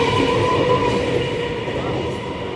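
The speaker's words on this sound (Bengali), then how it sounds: "1 সেকেন্ডের দূরত্বে ট্রেনটা ছেড়ে দিল" A train pulls out of a station, a close, steady rumble of moving carriages with a low drone and faint rail noise continuing without pause.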